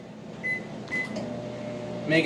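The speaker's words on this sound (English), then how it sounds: "We're just gonna throw them in the microwave really quick." A microwave oven warming tortillas in a home kitchen, a steady low hum with a couple of brief high beeps, close by and moderately loud.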